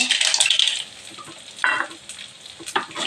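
Peanuts fry in a pan for a raw mango chutney, giving a short, close sizzle broken by a few brisk stirring scrapes.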